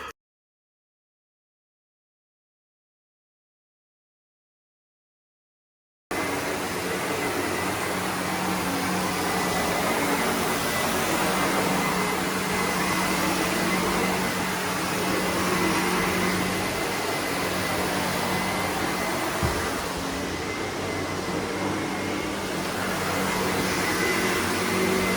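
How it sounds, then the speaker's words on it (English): A vacuum cleaner runs steadily on the communal carpet of a residential block in Sheffield, a loud, continuous whine and roar that starts abruptly after about six seconds of silence and holds without a break. "the reason why we vacuum beforehand is because the vacuum takes up so much of the dry soilage in the carpet"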